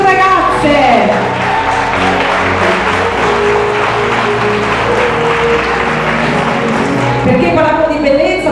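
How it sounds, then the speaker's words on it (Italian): Audience applauding contestants at the Miss Riviera del Brenta 2025 beauty pageant selection in Bojon, Venezia: steady, full clapping from a crowd that carries through the whole stretch, with music and voices woven underneath. "Facciamo sentire un applauso per le nostre ragazze!"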